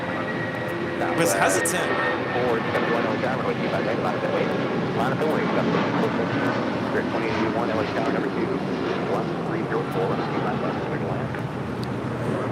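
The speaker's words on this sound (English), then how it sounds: "This is United Airlines 1416 taking off to Houston Intercontinental on a 757-300" A United Airlines Boeing 757-300 takes off at LAX bound for Houston, its steady broad roar mixed with wind buffeting the microphone while people talk over it.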